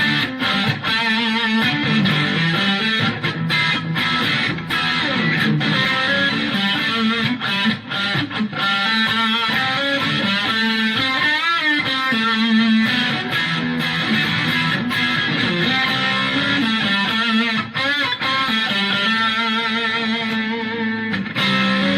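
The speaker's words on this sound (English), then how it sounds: "Now here is distortion all the way up." An electric guitar runs through a Boss DS-2 Turbo Distortion pedal with the distortion at maximum, a loud, dense, saturated wall of continuous riffing and sustained chords with a little added noise, no voices.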